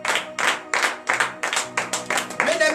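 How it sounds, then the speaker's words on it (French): A church congregation at morning prayer claps in a steady rhythm, about eight loud bursts of hand claps with voices acclaiming between and over them. "Donnez de vive acclamation à l'Éternel."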